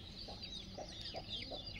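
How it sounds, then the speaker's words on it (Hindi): Aseel desi chickens on a free-range poultry farm cluck softly in a few short, spaced calls, faint against a steady background hiss. "देखो ये असील का मुर्गा"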